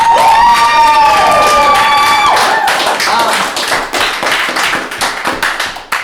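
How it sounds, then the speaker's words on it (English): A crowd at a live show at Roboto in Pittsburgh, PA claps and cheers loudly, whoops and shrill calls riding over dense, sustained applause that thins slightly toward the end. "Can we get a huge round of applause?"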